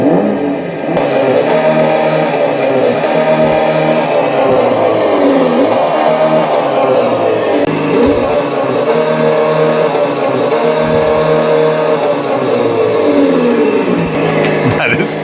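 A Honda City Turbo model car fitted with a GT Power engine sound unit gives a loud, continuous synthetic engine drone that revs up and falls back in repeated swells throughout.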